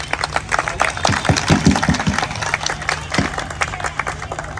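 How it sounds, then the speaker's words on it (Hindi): A crowd claps in scattered, uneven bursts over a low steady hum, the claps crisp and fairly close. "जोरदार तालियां।"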